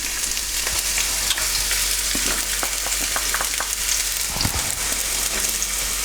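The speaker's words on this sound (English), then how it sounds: "all I'm going to do now is just for 2 or 3 minutes just sweat these onions down" Chopped onions sizzle steadily in hot vegetable oil in a heavy-based saucepan over medium heat, a constant close frying hiss broken by a few soft clicks from stirring.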